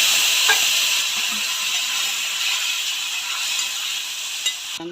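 Water poured into a hot pan of turmeric spice mix, two spoons of ground turmeric, for a potato, pointed gourd and bata fish curry, giving a steady bright sizzle and hiss that holds evenly for several seconds, with a few faint clinks.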